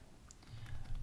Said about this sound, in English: Wow, were you not typing?